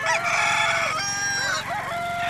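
A rooster crows loudly and close by, a single harsh, drawn-out cock-a-doodle-doo with rising and falling pitch, with no talk over it.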